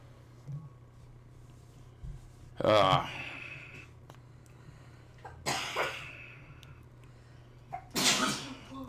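Three loud, explosive sneezes burst out a few seconds apart, close to the mic, with brief sniffs and murmurs between them.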